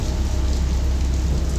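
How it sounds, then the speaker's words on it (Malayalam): Heavy rain pours down as a sound effect in a Malayalam horror audio drama, a dense steady hiss of downpour with a low rumble beneath it. "അതിനെ തുടർന്ന് മഴയും ചൊരിയുവാൻ തുടങ്ങി."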